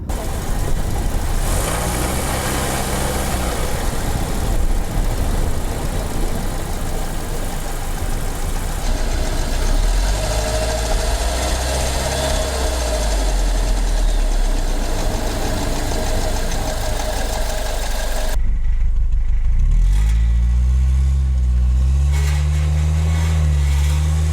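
A 2007 Saturn Ion car engine idles and revs up through rising and falling pitches, loud and close, with a sharp cut near the end before settling back into a steady idle.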